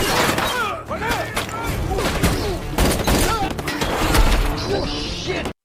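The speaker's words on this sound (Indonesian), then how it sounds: "Mereka langsung melepaskan tembakan, menyebabkan baku tembak yang menewaskan beberapa agen." Bursts of gunfire crackle through a busy, loud film shootout scene, with shouting voices and crashing impacts mixed in throughout.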